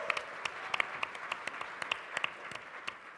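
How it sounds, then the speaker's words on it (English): A summit audience gives a brief round of applause, with scattered individual claps standing out over a soft, fairly distant patter. "you should just give him a round of applause anyways"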